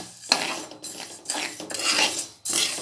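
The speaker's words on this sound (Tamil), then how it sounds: "ரோஸ்டடாக வெறும் வானலியில் இந்த மாதிரி நம்ம வறுத்துக்கலாம்" Moong dal being dry roasted in an empty pan, heard as repeated bursts of rattling and scraping as the lentils are tossed and stirred, each burst separated by short pauses.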